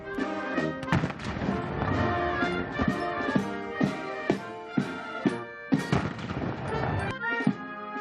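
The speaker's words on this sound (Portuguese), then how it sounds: "seguido pela salva de 21 tiros de canhão" A 21-gun cannon salute: deep booms fire at steady intervals, roughly one per second, over a brass band playing loudly at a military ceremony.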